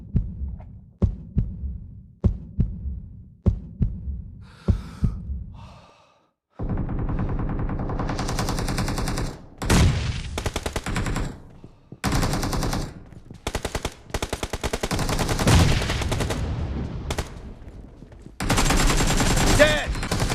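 In the mobile game PUBG Mobile, an AK and a shotgun fire at close range. Soft heartbeat-like thumps come first, then loud rapid automatic bursts and heavy blasts rattle on in dense volleys.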